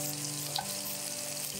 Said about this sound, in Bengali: পেঁয়াজ কুচি আমি দিয়ে নিয়েছি, একটু ভেজে নিচ্ছি